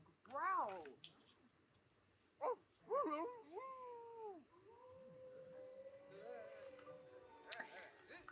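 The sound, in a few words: werewolf growling in video game Sims 4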